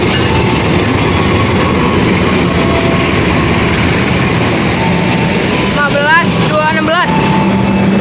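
A CC 206 locomotive hauling a train rumbles steadily through a railway station, with a continuous heavy rolling roar and a brief squeal of wheels near the end, with a voice speaking over it.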